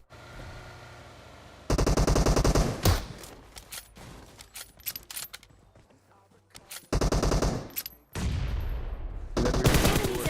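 Bursts of automatic gunfire from two teams fighting in PUBG Mobile, loud, rapid rattling volleys separated by quieter gaps with scattered single shots, no talking.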